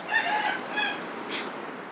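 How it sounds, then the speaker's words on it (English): Roosters crow in Bangkok, two or three long calls rising and falling in turn, moderately distant over a steady outdoor hum of traffic and city background. "Some roosters out here."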